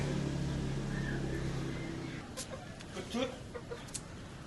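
Chickens cluck softly in the background over a low steady hum, with a few scattered bird calls after the hum drops away, in a village in West Bali, Indonesia.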